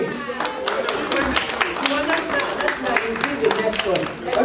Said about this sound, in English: Come on, let's clap for him.